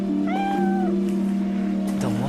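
A cat gives a clear rising-and-falling meow early on, close and distinct, with a second shorter cry near the end, all set against background talk from a film scene.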